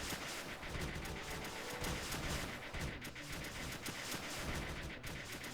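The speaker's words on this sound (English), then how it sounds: "All launchers firing." Launchers in the strategy game Creeper World 2 fire continuously, making a faint, dense rattling barrage of rapid overlapping pops with no pauses.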